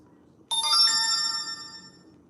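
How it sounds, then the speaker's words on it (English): An Android phone ringtone goes off suddenly after a quiet start, a bright, tonal melody that rings loud and close for about a second and a half, then fades out. "I know that's my phone. My Android."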